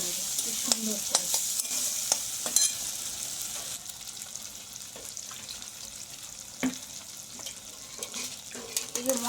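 Ground cumin paste frying in a pan while a spatula stirs it, a soft steady sizzle broken by sharp scrapes and taps of metal against the pan, close by.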